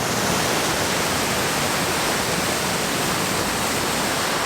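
A powerful waterfall flooding down a hillside on the Isle of Skye, a dense, loud, unbroken roar of rushing water filling the whole clip with no voices.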